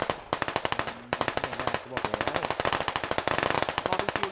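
Rapid automatic gunfire in the video game Squad rattles in fast, even bursts, a short pause splitting the volleys; crisp, close shots with faint voices underneath.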